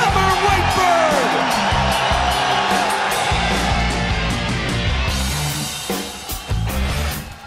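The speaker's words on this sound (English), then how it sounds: "Listen to this Glasgow crowd go crazy for Robert Whiteford" A Glasgow crowd at a UFC Fight Night weigh-in roars and whoops for Scottish fighter Robert Whiteford, a loud, sustained mass of cheering and yells that swells and then gradually eases toward the end.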